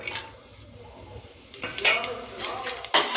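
A quiet pan, then spoon clinks as spices drop into hot oil for a chicken curry, followed by rising crackling sizzles close by.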